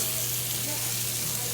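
Thick pork chops sizzling in a hot pan just after being flipped: a steady, close, broadband hiss of frying that holds even throughout.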